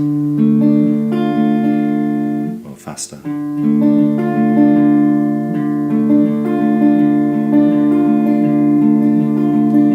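Steady fingerpicked guitar notes in a rolling, repeating pattern, briefly interrupted near the middle by a short spoken phrase before the picking resumes.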